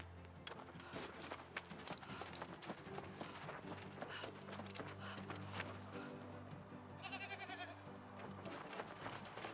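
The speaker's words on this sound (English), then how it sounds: "It's not a goat, it's a sheep." Sheep in a video game bleat among busy game audio, with running footsteps and layered effects throughout, a brief bleat standing out near the end of the dense mix.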